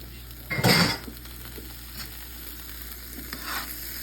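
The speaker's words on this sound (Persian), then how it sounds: "میخوایم زرشکا رو با این کره تفت بدیم" A brief burst of barberries sizzling in butter as they are stirred in a pan, loud for under half a second, then only faint sputtering and a couple of soft scrapes.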